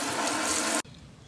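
Warm water runs steadily from a sink tap while Dolphin Nautilus CC Plus pool cleaner cartridges are rinsed, a loud continuous splashing rush that cuts off abruptly near the end, leaving quiet room tone.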